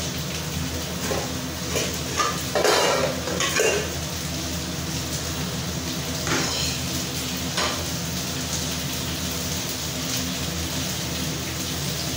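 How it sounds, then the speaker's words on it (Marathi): Onions frying in a pan give a steady, close sizzle with a few brief stirring scrapes, all under a continuous kitchen background hum. "कांदे मस्त आपले भाजले जात आहे"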